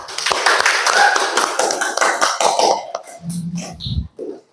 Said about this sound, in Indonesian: Tepuk tangan untuk semua kelompok, teman-teman.